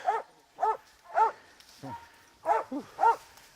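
Hunting dog barking in bursts during a hog hunt in the rain, about six sharp woofs spaced roughly half a second apart, close and fairly loud, with no talk over them.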